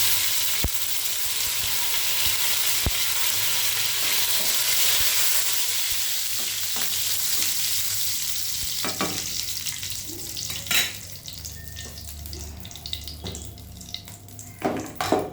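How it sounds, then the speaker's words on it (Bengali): Curry leaves go into hot oil left after frying eggs, giving a loud, dense close-up sizzle that slowly settles into sparser crackles and pops, with a few clattering stirring sounds near the end and no speech. "এবার এতে অ্যাড করবো কারি পাতা।"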